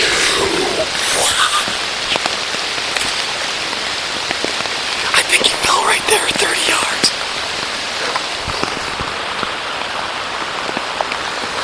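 Heavy rain pours down steadily in a dense hiss, with someone speaking quietly under it.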